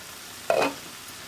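A single quick stir of okra cooked with curd in a pan, a brief scrape and soft sizzle rising from a quiet background and fading within a moment.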